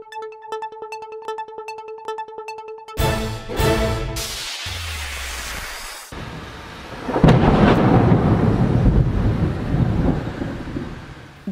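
A thunderstorm: after an opening musical tone, heavy thunder cracks and rolls loudly, with a further deep rumble and steady rain noise, and no voices.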